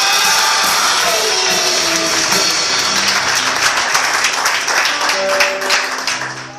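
Church congregation clapping for God's name, dense applause with cheers and shouts rising over it, fairly loud and continuous before tapering near the end.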